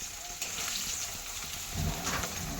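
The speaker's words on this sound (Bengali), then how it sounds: "ডিমগুলোকে লাল লাল করে ভেজে নেবো" Eggs frying in hot oil in a pan, a steady close sizzle and crackle running throughout, growing slightly busier toward the end, with no talking.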